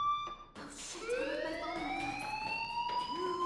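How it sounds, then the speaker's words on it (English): A fire alarm in the game Life is Strange sounds as a loud electronic tone that rises in pitch and then holds steady, continuous and close, with no voices. "Do you hear that fire alarm?"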